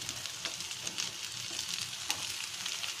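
White onion and cucumber sautéing in a pan, a steady close sizzle with occasional stirring scrapes and clicks.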